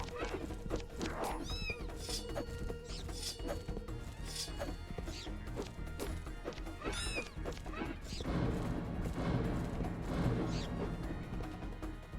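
A cat boss in the video game Dunjungle meows repeatedly, sharp rising cries among crashing and thudding game effects, loud and busy with no talking.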